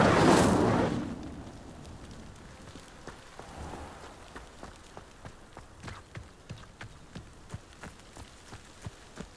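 Incendio fire spell cast in the video game Hogwarts Legacy, a loud burst of whooshing flame at the start, then fading into a soft crackle of small regular pops.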